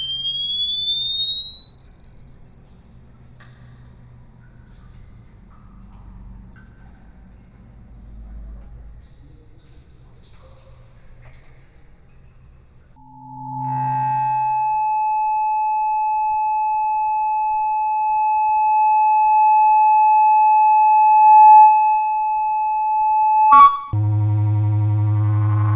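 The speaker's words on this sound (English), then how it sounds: "the feedback effect, a noise created by 2 sources which are too close to each other" Electronic feedback tones from two sound sources placed too close together: a steady pure whine rising in pitch, then sustained sharp ringing tones that hold and shift, ending in a burst of harsh noise.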